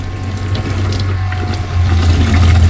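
A camper van's kitchen water pump hums steadily while the tap runs, a constant low drone with water hissing over it that swells a little louder near the end.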